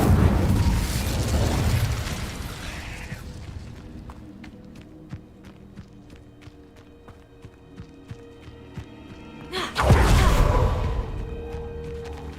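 A magical fire spell cast in a wizarding school setting: a loud whooshing burst of flame that fades into rhythmic footsteps, then a second roaring fiery blast erupts near the end.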